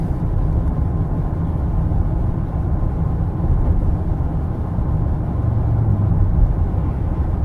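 Steady low road and engine drone fills the cabin of a 2015 Ford F-150 Platinum FX4 pickup cruising at highway speed, an even, moderate rumble with no talking.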